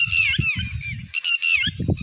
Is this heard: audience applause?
no